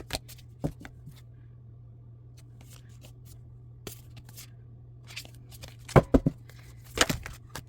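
Tarot cards are shuffled in scattered bursts of soft riffling and flicking, sparse at first and thickening into a few sharper clustered shuffles toward the end, set over a low steady hum.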